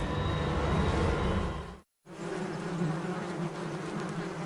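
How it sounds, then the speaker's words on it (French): Dense buzzing of many wasps in flight, a continuous droning hum that briefly cuts out before resuming just as thick. "Des escadrons de guêpes carnivores prennent leur envol."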